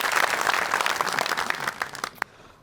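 A studio comedy audience breaks into loud, dense applause that carries for a couple of seconds before tapering off into quiet.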